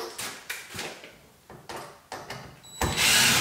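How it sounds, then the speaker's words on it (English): A power screwdriver drives screws into exterior wood window trim in short bursts. A few brief whirs and clicks come close and clear, ending in a longer run of noise. "I'm just going to go ahead and use screws and screw these on."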